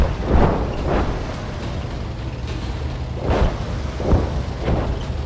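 A T-34 tank cannon fires at an enemy tank in a Cold War tank game: heavy booming shots with long rumbling decay, several loud blasts spread over a low engine drone.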